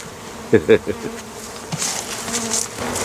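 Honey bees buzz around an open hive being calmed with smoke during an inspection, a steady insect drone with a few louder close passes near the start and fainter buzzing beyond.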